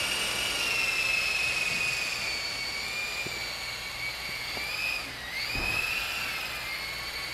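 A New Art Tech 4-channel 400-class Agusta double-rotor RC helicopter taxis on its wheels, its motor giving a steady high-pitched whine with a brief dip in pitch partway through, close and continuous.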